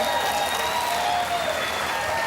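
A studio audience at a National Lottery game show applauds a departing contestant, a dense, steady wall of clapping with faint tones and voices underneath.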